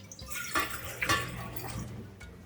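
Water splashes and trickles into a container nearby, with a few louder pours and drips over a faint background hum.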